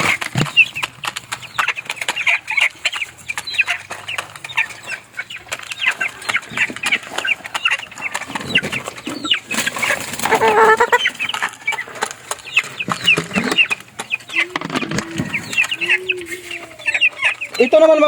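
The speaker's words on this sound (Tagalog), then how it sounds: "mga babae na manok" Hens cluck and chatter close by in a continuous busy flock, with occasional wing flaps and a brief voice in the background.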